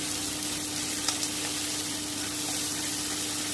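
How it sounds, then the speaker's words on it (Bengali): Tomatoes fry in a pan for a kadai chicken paste, giving a steady, moderate sizzle with a faint hiss and an occasional light stir or tap, close and continuous, with no talk. "আমি আর একটুখানি ভেজে নিচ্ছি।"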